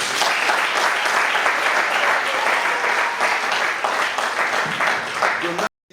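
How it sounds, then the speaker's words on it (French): Wedding guests applaud in a sustained, dense burst of clapping that holds steady for several seconds before cutting off abruptly at the end. "Qu'elle soit applaudie également"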